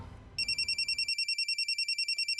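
A telephone rings indoors with a rapid electronic trill pulsing in steady bursts, close and clear, starting after a brief stretch of low background noise.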